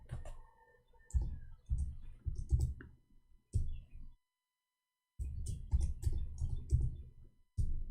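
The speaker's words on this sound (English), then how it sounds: "I hate my keyboard. There's something wrong with it." Bursts of fast typing on a faulty computer keyboard, close and clicky, broken up by short pauses and one stretch of full silence.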